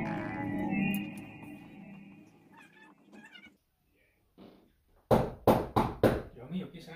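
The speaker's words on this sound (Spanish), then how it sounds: "Tocando la puerta." A quick run of about five sharp knocks on a door rings out near the end, after earlier talk and a quiet pause.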